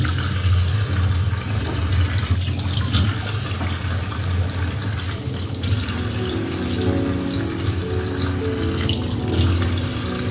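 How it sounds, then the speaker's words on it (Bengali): Water runs steadily from a kitchen tap for hands being rinsed, a continuous close splashing stream into the sink with no talking. "হাতটা ধুয়ে সামান্য পরিমাণে একটু পানি"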